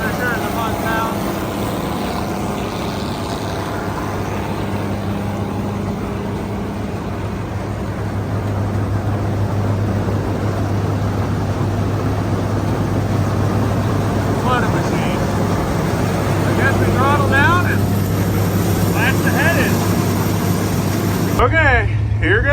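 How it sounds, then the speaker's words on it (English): Massey 300 tractor with a six-cylinder engine idles steadily while harvesting corn in the snow. It makes a continuous low drone with a mechanical hum. A voice talks briefly near the end. "That little 6-cylinder sure is a fun sound."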